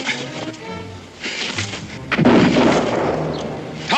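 Gunfire rings out in a frontier-era wilderness skirmish, with a few loud, sharp shots that boom and echo. Between the shots there is rough ambient noise and no speech.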